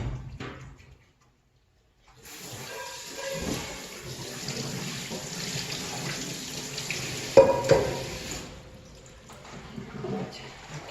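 Cold tap water runs over cooked mussels being rinsed for Korean honghapcho, a steady rushing flow after a brief silence, with a few clatters and splashes, close and moderately loud.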